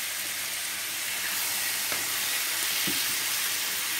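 Squid with green chili sizzles hard over a high flame, a dense, continuous hissing fry heard up close, with a couple of faint clicks from a utensil.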